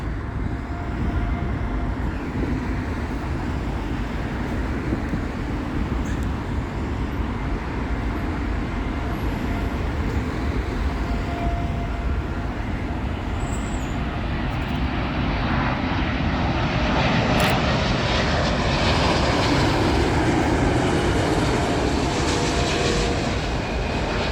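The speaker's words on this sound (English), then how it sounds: "Up next will be Virgin Atlantic A350, and this one coming in from Lagos" Virgin Atlantic Airbus A350 arriving on Heathrow runway 27L from Lagos, a loud, steady jet roar that swells and brightens toward the end as the aircraft passes close overhead.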